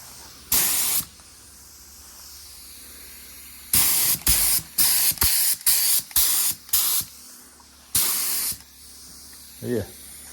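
Sealer coat sprayed from an aerosol onto BMW E38 728i leather in a series of sharp hissing bursts, one early, a rapid cluster of short squirts mid-clip, and a final longer blast, close and loud with quiet gaps between.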